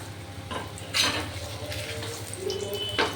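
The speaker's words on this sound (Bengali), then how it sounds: "আমি মালপোয়াগুলো ভাজছি" Malpua sizzling in hot oil in a pan as sweet offerings are fried for a puja, a steady close frying hiss with occasional clinks of a utensil against the pan.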